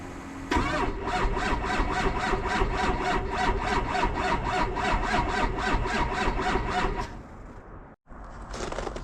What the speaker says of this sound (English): I'll set you guys here and to see the cold start and see how it looks